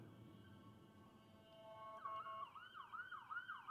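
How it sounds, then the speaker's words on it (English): An ambulance siren wails as it passes, faint at first behind a low ambient hum, then rising into a clear, louder sweeping yelp toward the end, with no talking. "Got ourselves an ambulance, a wambulance coming through here."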